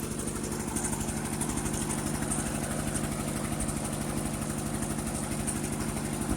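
A 1958 Ford 851 tractor engine running steadily at idle, a continuous low, even chugging drone heard up close and alone, with no talk over it.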